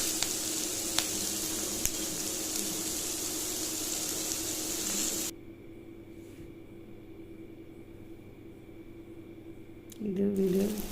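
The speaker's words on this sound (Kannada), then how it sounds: "ಚೆನ್ನಾಗಿ ಫ್ರೈ ಮಾಡಬೇಕು. ಅದನ್ನ ಒಂದಕ್ಕೆಲ್ಲ ರೀತಿ ಫ್ರೈ ಮಾಡಿ." Chutney ingredients frying in a pan, a steady loud sizzle for about five seconds before the sound cuts to a much quieter background.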